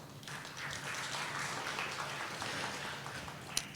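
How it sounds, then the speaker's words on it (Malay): An audience at a university launch ceremony applauds, with a dense, even wash of many hands clapping at moderate distance, steady throughout and fairly soft. "Juga satu tepukan buat kanda saya ni."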